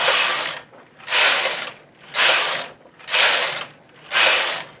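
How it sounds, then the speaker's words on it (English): A knitting machine carriage is pushed back and forth across the bed for six rows of a flat plain hem, each pass a loud, near rasping whir of about half a second, evenly spaced with short pauses between. "now I'm going to knit 6 rows"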